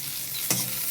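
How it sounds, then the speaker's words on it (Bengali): Chopped onions fry in hot oil in a pan with salt, a steady close sizzle with a brief stir scrape midway and no talking. "পেঁয়াজটা হয়ে তাড়াতাড়ি ভাজা ভাজা হয়ে যায়, তার জন্য একটু নুন দিয়ে দেবো।"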